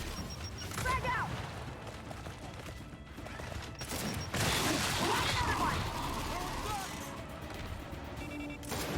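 A frag grenade explodes during a co-op Gears of War 5 firefight outside a mine, a loud broadband blast landing mid-clip amid ongoing gunfire and combat noise, with voices talking over the action.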